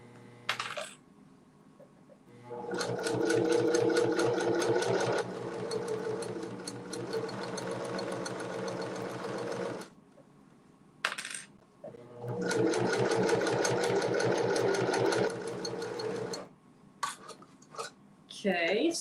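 A sewing machine stitches fabric in two long, fast bursts of rapid rhythmic clatter separated by pauses, close and fairly loud, with brief shorter runs near the ends and quiet handling between.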